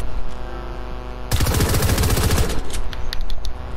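Rapid-fire weapon blasting in Fortnite, a dense loud burst of quick shots lasting about a second, followed by scattered lighter clicks and game noise.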